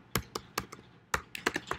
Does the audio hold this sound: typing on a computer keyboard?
yes